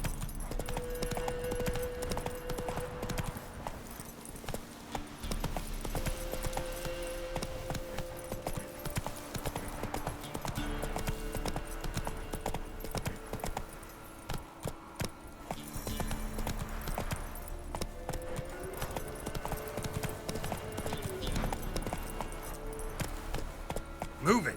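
The horse Roach trots along in The Witcher 3, hooves clip-clopping in a steady, quiet rhythm on the ground over soft game background sound.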